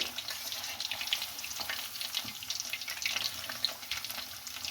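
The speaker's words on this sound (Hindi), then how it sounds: "और अब इस साइड से भी इसको फ्राई कर लें।" Fish pieces frying in hot oil, a steady close crackling sizzle with bright spattering pops throughout, no talking.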